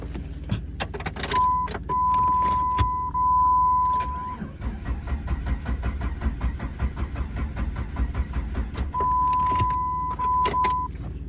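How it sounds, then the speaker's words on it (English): Jeep WJ with a damaged engine cranks over and over with a rhythmic starter whir but never catches, and a steady warning chime rings before and after the cranking. "since it wouldn't start, it would just crank"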